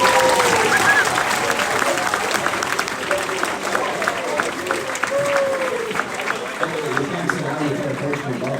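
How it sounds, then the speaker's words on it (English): A banquet audience applauds a hockey coach with sustained, dense clapping and crowd noise that fills the room from start to finish. "Let's give a huge round of applause to the best coach we could ask for"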